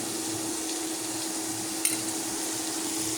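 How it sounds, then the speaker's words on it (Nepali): Spices are stirred into a garlic-ginger paste in a hot pan, giving a soft, continuous sizzle with faint scraping and one brief sharp clink partway through. "अब यो सबै मसला यो लसुन अदुवाको पेस्टमा मिक्स गरिदिनु।"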